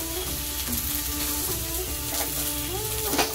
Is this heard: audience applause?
no